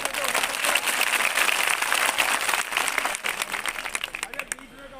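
Audience applause at a political gathering in Ujjain, dense clapping throughout that thins and fades toward the end, with some voices mixed in.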